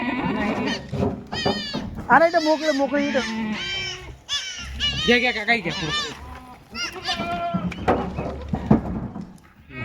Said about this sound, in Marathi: बच्चा आणि बकरी आणा इकडं.